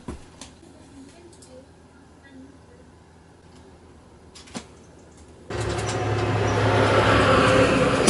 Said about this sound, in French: Putain de camion de merde!